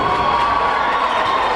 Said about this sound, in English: this Nevada crowd is loud tonight